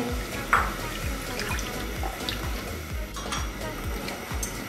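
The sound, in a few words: stirring sugar into hot milk for mango custard ice cream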